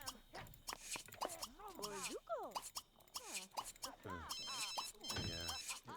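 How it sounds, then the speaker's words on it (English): A mobile phone ringtone in the video game The Sims 2 plays a bright, warbling melodic ring in repeated bursts, mixed with other in-game sounds and voices. "You don't want to hear that sound in a medieval hood, a mobile phone."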